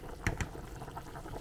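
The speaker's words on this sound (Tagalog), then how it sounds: "sobrang kumukulo na siya" A pot of spare rib soup with noodles at a hard boil, heard as a faint, steady bubbling with a couple of soft pops near the start.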